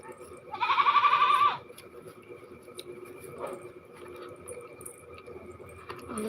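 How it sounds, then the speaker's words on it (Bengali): A goat gives one loud, close bleat lasting about a second, followed by quieter rustling and faint background noise. "আমাদের ছাগলগুলো হেভি বদমাস আছে"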